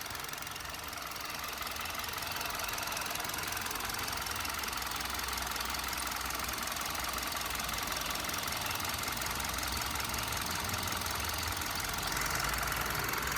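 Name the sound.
Hyundai i20 Asta petrol engine running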